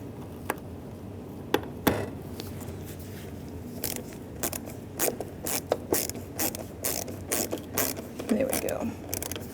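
Ratcheting T15 Torx driver clicks in short irregular bursts as it tightens license plate light lens mounting screws on a 1994-2001 Dodge Ram 1500, close up over a low background hum.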